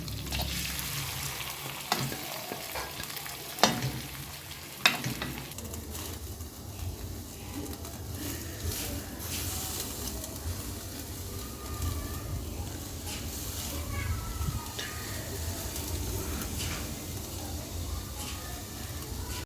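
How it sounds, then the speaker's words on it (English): Crushed potatoes fry in salted oil with a continuous, close crackling sizzle, punctuated early by a couple of sharp knocks from a utensil, with no speech over it. "So I'm adding some salt into my oil, and then these are crushed potatoes."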